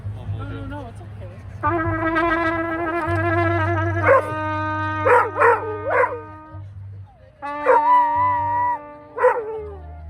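A dog howls in long, sustained, wavering tones, rising and falling in several drawn-out phrases with brief breaks, close and fairly loud, with people murmuring low in the background.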